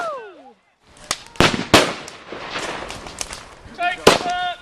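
Bonfire night fireworks burst with several sharp, loud cracks and bangs at irregular intervals, crackling between them, while people talk and exclaim nearby.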